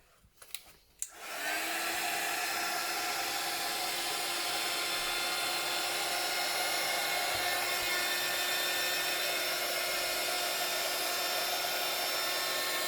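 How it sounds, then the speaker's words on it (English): After a brief clatter, a craft heat blower switches on and runs with a constant loud, breathy whir and fan whine that holds steady throughout. "I'm going to take my blower, so obviously it's going to get a little bit noisy."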